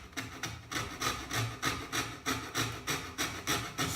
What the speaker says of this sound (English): you can use this coping saw